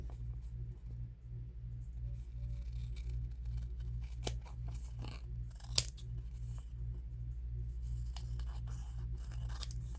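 Scissors snipping through a label sheet, a few sharp close cuts and crisp paper crunches over a steady low electrical hum.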